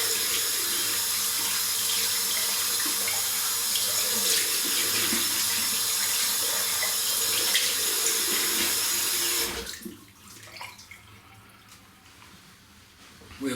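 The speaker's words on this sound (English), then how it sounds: "We have a dual water faucet, hot and cold, on one tap, does both" Water gushing steadily from a single-tap hot and cold mixer faucet into a sink, a loud, even splashing rush that cuts off abruptly after about nine seconds, leaving faint dripping and room quiet.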